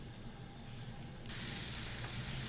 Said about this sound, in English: in this saute pan I'm cooking a little shrimp in my spring onion pesto